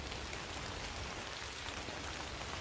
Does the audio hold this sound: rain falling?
yes